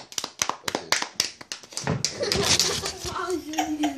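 Hands clap in a quick run of sharp, close slaps at a birthday gathering, then give way to a child's chatter and laughter.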